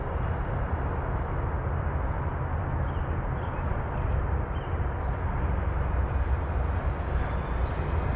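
An FMS F7F Tigercat 1700mm twin-engine RC plane cruising at just over half throttle makes a continuous, loud broadband drone that holds steady throughout with no talking.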